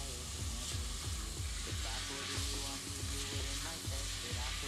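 Pumpkin cubes and a small amount of bacon sizzle steadily in a frying pan, with a constant loud hiss and repeated rhythmic scraping of stirring throughout.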